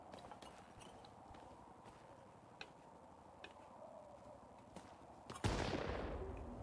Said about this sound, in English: really starting to hear bullets now